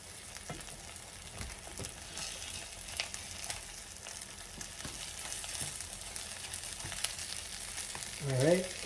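Tortilla frying in a pan for chicken birria tacos, a soft, steady sizzle with occasional stirring and scraping sounds, and a brief voice at the very end.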